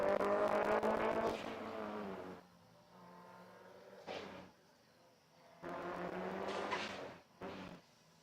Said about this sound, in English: listen to all the pretty turbo noises